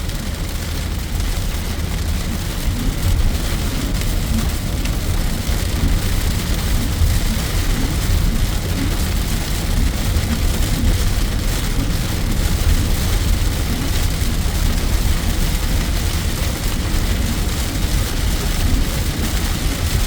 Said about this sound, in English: the rain is torrential right now,